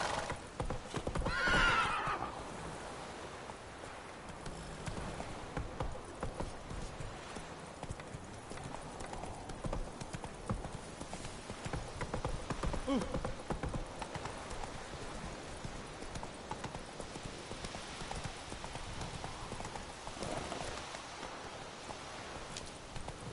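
Roach the horse gallops in The Witcher 3 with steady rhythmic hoofbeats, a neigh near the start and rain-like hiss in the background.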